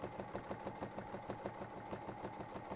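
A sewing machine stitches a quilt border along a ruler, its needle thumping in a fast, even rhythm at close range, faint and steady throughout.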